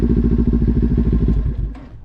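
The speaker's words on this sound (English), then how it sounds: "Now that the bike is on, we need to pull in the clutch and kick the shifter down into first." A motorcycle engine runs loudly up close, a steady throbbing idle of rapid, even pulses that eases off near the end.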